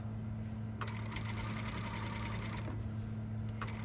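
Sewing machine top stitching a fabric yoke: a steady low motor hum runs throughout, with a sustained burst of stitching lasting about two seconds in the middle and a brief catch near the end. Nobody speaks.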